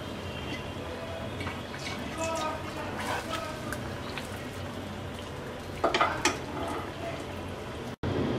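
Mango malpua pancakes fry in hot oil while being flipped and basted with a spoon. A steady close sizzle runs throughout, with spoon and pan clinks around the middle and a voice in the background.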